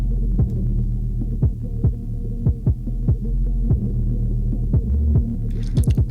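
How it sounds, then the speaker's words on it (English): A heavily compressed, pumping low-end loop throbs steadily, with thumping drum hits and a swelling, breathing hum between them. "it will squash the signal and introduce some heavy pumping"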